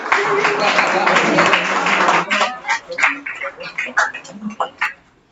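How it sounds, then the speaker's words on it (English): Students clap after a class presentation on markup languages: a full burst of applause for about two seconds, then thinning into scattered individual claps that fade out, with faint voices mixed in. "I see no questions, so you can clap"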